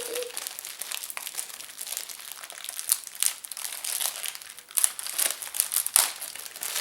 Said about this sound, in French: Là, on voit pas très bien, je vais la déballer.